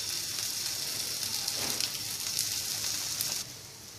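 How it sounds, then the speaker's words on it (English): Aloo tikki potato patties sizzle steadily in hot oil in a pan, a continuous bright frying hiss at close range that drops noticeably in the final half second. "Add some oil and then we're going to place our patties."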